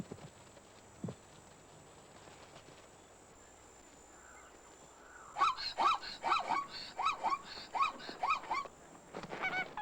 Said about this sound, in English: The sudden takeoff of Egyptian geese is enough to startle the herd.